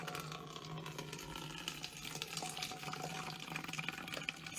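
Warm water pours steadily from an opened container into a bottle being filled halfway, a continuous bubbling, splashing gurgle heard close and moderately quiet, with no talking.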